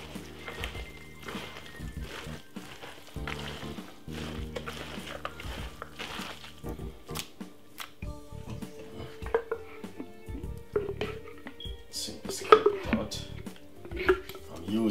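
Homemade Jamaican-style coleslaw being mixed in a bowl, with scattered clinks, scrapes and soft stirring thuds of a utensil against the dish, close and uneven, under faint background music and some talk.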